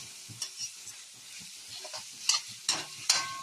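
Onion sautéing in a pan at home, soft stirring scrapes over a faint sizzle, with a few sharper spoon clicks near the end and no talk.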